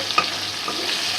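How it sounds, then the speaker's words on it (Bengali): Rohu fish pieces frying in hot oil in a wok, a close steady sizzle with a couple of quick stirring clinks. "এই যে মাছগুলো হালকা হালকা করে বাজতেছি"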